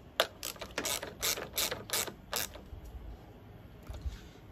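A ratchet clicks in quick bursts while tightening 13 mm nuts on a battery terminal of a Redarc dual battery kit, rapid close pawl clicks followed by fainter, sparser turns.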